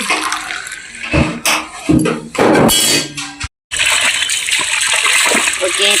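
Tap water gushes loudly and steadily for washing clothes, splashing into a container close by. It is cut by a brief gap, and voices talk over it.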